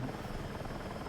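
Steady, dense rotor and engine drone of a helicopter flown in the video game Battlefield 6, continuous and fairly faint with no voices.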